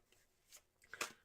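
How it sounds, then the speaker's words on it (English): A deck of tarot cards is shuffled by hand, two quick faint riffling bursts close by in an otherwise quiet room. "and I just shuffle them until I feel they're ready."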